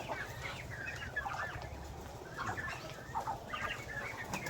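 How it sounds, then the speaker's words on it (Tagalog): Chickens and chicks cluck and peep on a rural farm, with repeated short calls scattered across the clip over a steady low background hum, moderately close. "Ang dami pa mga sisiyo dito."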